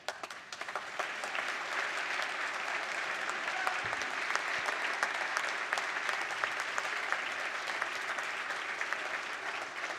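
Applause rises for honored school educators in a legislative chamber session, a sustained, even wash of many hands clapping at moderate distance, steady throughout with no talk over it.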